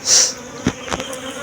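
Honey bees around a hive recently moved to a new spot, a close buzz flaring briefly at the start, then fainter passing hums and soft bumps against a quiet background.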